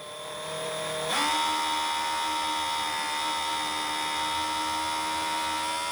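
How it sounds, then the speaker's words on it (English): A drill fitted with a carbide bit cuts into tough stainless steel. A high whine rises as the drill spins up and then holds as a steady, close, piercing tone, with no speech. "we're using a carbide bit because this is stainless steel and it's pretty tough. So we'll go slow to get it started"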